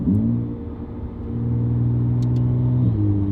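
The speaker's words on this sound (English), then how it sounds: "Put the engine on." A McLaren Artura engine with a Valvetronic Designs free-flow race exhaust rumbles close by, idling with a deep steady drone, then the pitch shifts slightly as the revs change near the end.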